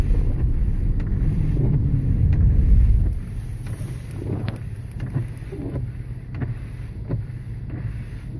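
Blizzard wind blows through the Old Port of Portland, Maine, heard from a car being driven in the snowstorm; a loud low rumble in the first three seconds eases into a steadier, softer rush with faint knocks.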